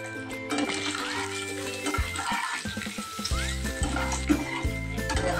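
Onion, green chilli, red chilli powder and turmeric sizzle in hot oil in a pan, a steady moderate frying hiss broken by stirring scrapes and clinks, with a tonal hum underneath and no talk.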